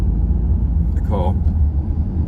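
French-plated Mercedes car driving on the right side of the road, a steady low rumble passing nearby with a brief higher tonal whine in the middle, engine and tire noise continuous throughout.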